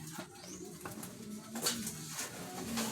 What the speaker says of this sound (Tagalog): Mga ibon. Yan, mga ibon.